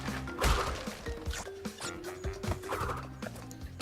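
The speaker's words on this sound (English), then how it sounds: "smashing boxes" Wooden boxes smashed in the video game Crash Bandicoot N. Sane Trilogy, a quick run of sharp cracking breaks and clattering thumps over bouncy game music, several hits in close succession.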